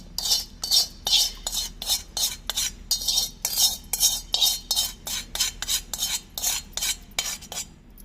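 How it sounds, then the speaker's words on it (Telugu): A spoon scrapes hair dye mixture into a bowl in quick, repeated strokes, each one a close metallic scraping rasp, steady and rhythmic throughout. "ఇప్పుడు ఈ మాదిరిగా ఒక బౌల్ తీసుకొని ఆ బౌల్లోకి అంతా కూడా వేసేసుకోవాలి"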